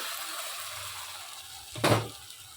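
Onions sauté with a ground tomato, garlic, ginger and cashew paste for chana masala, a soft steady sizzle broken by one brief louder hissing burst near the end.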